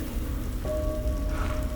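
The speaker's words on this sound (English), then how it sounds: "A nice casual stroll through acid rain." Acid rain falls steadily in the Silent Hill 2 remake, a dense, close hiss of drops on surfaces that runs unbroken throughout, with faint thin tones rising above it.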